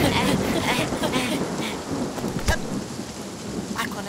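Cartoon thunderstorm with steady heavy rain and rumbling thunder, a sharp crack near the middle, continuous and fairly loud with no talking.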